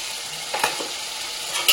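Onion and green chilli paste fries in a pan, giving a steady close sizzle with a few short scraping bursts as a spoon stirs it.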